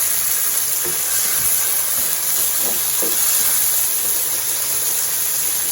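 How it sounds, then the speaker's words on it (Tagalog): Vegetables sautéing in a pan for chicken pochero, a loud, continuous sizzle and hiss with a few faint knocks of a utensil, no talking. "ginigisa ulit natin yung bahay kubo"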